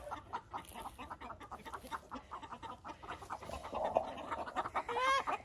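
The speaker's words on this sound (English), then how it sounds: "These are all new chickens." Several chickens cluck and chatter nearby in a backyard chicken yard, new birds milling around a cat, with a steady busy rhythm of short calls and a louder squawk near the end.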